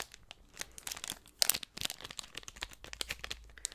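The wrapper of a Yorkie chocolate bar crinkled up close in a quiet room, a steady stream of crisp crackles and rustles with a few louder crunches, with no talking.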